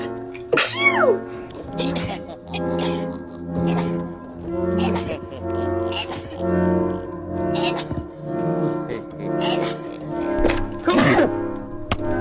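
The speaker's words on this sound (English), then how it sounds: "I think I'm gonna sneeze." A person sneezes loudly several times in a row, sharp bursts spaced a second or two apart, close to the mic and mixed with voiced gasps between them.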